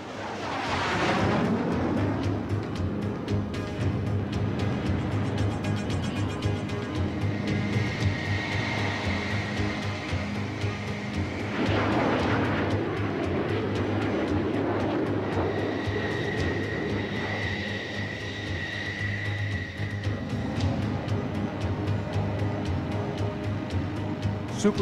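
Carrier-launched military jets flying during a simulated attack exercise on an enemy port, a steady loud roaring engine drone that swells and fades across the whole stretch, with no talk.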